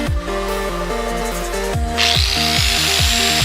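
An angle grinder fitted with a flap disc works on steel shock tabs clamped in a vise, a loud close whirring grind with pitch dipping and recovering as the disc bites, a brighter hiss joining after the first two seconds.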